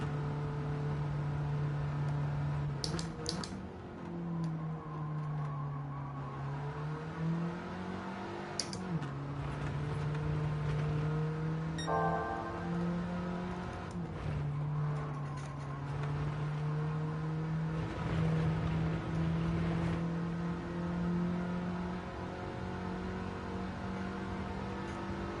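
A Mini race car lapping a circuit in a racing video game holds a steady, loud engine drone throughout, rising and falling in pitch with gear shifts and throttle changes, with no one talking.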